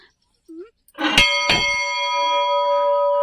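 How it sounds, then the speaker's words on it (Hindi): A temple bell offered at the Kanda Devi shrine is struck twice in quick succession, close by, and its bright metallic ring hangs on and fades slowly after a brief murmur of voice. "ये देखिए घंटी, ये किसी ने चढ़ा रखी है, तो इसको मैं आपको दिखाती हूँ बजाते हुए"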